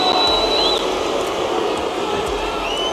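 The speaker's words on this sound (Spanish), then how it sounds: "los abucheos comenzaron incluso antes del último round" A large arena crowd at a UFC fight makes a sustained, loud wash of noise with a few sharp whistles rising above it, continuous from start to end.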